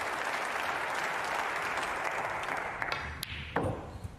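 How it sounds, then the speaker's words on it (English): Appreciative applause from a snooker crowd in Brentwood at the 2023 English Open, with a little cheering and a few whistles. The clapping is dense and steady, then thins slightly toward the close. "that was a very appreciative applause and a little bit of cheering, a few whistles"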